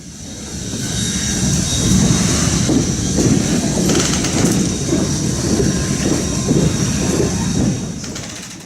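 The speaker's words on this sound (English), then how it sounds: "number 26 will be hauling the Nay Aug Gorge Limited through downtown Scranton and up into Nay Aug Gorge Park" Baldwin Locomotive Works steam locomotive number 26 hauling a passenger excursion through downtown Scranton, heard from aboard as a loud continuous rumble with rhythmic clickety-clack of wheels, swelling and easing slightly, no talk.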